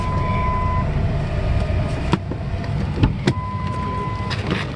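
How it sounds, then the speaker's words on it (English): A parked car's engine idles steadily and close by outside the Integratron near Joshua Tree. A constant low rumble fills the clip, with a few faint clicks and murmurs on top. "I'm gonna keep the car running."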